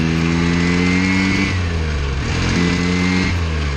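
A 1975 Hercules W2000 rotary-engine motorcycle accelerates loudly and close up with a raspy, steady drone, its pitch rising through a gear then dropping at a shift and climbing again, with no talking over it.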